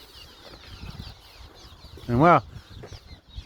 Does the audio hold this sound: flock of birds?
yes